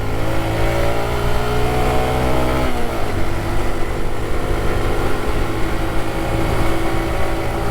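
A Honda Trail 125 motorcycle engine is opened to wide-open throttle while riding, climbing in pitch as revs build, with a gear-change dip midway. Loud, close and continuous, with steady wind and road roar underneath.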